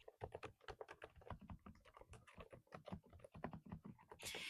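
Steady, rapid keyboard typing with soft, muted key presses, dense and continuous, close up with no voices.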